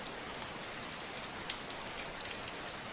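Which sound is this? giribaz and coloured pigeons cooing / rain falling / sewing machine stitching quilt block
rain falling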